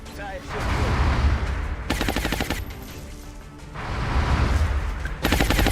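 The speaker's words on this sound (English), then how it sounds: "And I need the big gun to shoot." Heavy weapon fire from the XCOM game: two long bursts of rapid, loud gunshots, each lasting over a second and a half, with booming low rumble between them and no voices over the shots.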